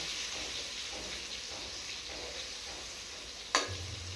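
Potatoes frying with salt and turmeric in a pan over a wood-fired clay stove, giving a steady close sizzle throughout, broken by one sharp clink of a utensil near the end.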